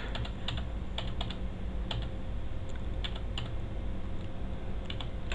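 Fingers tap steadily on a computer keyboard, a close series of crisp clicks in quick, uneven bursts over a low, constant background hum, with no voices.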